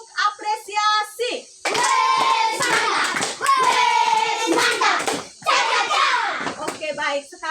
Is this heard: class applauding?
yes